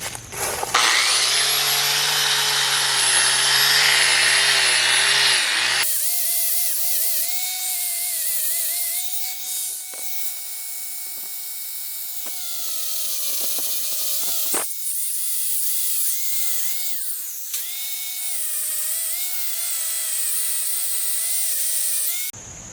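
Power tool spinning a wire brush to clean rusty steering parts from a classic two-door Range Rover, a loud steady whine for the first six seconds, then a lighter buzzing motor with pitch shifts and brief drops, running alone without talk.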